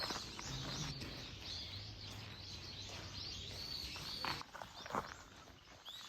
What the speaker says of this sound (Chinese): 只有鸟叫声陪伴之居的脚步